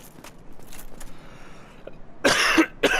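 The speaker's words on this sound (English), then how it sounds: "golly, I am so sorry about my coughs" Two sharp, close coughs burst out near the end, the second shorter than the first, after a stretch of faint background sounds.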